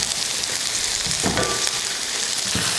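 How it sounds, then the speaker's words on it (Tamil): Long-sliced onion sautéing in hot oil in a pan, a continuous frying sizzle with a few stirring scrapes and clinks, close and steady, with no talking. "வதக்கிக்கலாம்."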